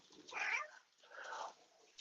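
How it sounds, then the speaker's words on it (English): A cat meows twice nearby, a louder drawn-out call followed by a softer, lower one, fairly faint and alone. "my cat's trying to say hi"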